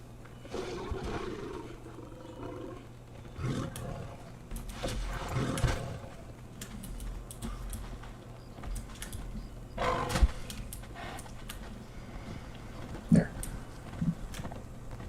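Tiger roaring in the video game Conan Age of War, with a horse nearby; several deep roars rise over a steady ambient hum, with the strongest bursts near the middle and toward the end.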